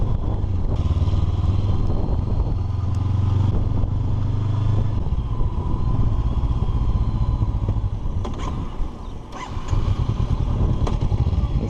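Motorcycle engine running loud and close with a rough, uneven clattering note partway through, steady throughout.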